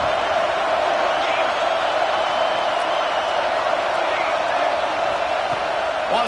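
A home crowd at a football game roars steadily and loudly, a dense wash of cheering that stays constant throughout.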